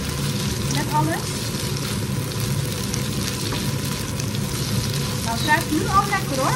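Chicken pieces frying in a pan on an induction hob with other ingredients, giving a steady loud sizzle throughout with a few brief stirring clinks near the end.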